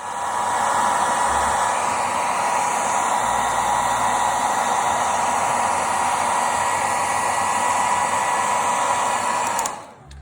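A hair dryer blows constantly for about ten seconds while heating parts during a renovation, a loud even whir with a faint whine, then clicks off right at the end.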